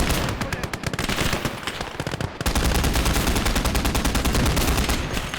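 A DShK (Dushka) heavy machine gun fires in a WWII video game: long, loud, rapid bursts of evenly spaced shots, with one brief pause before the gun continues hammering.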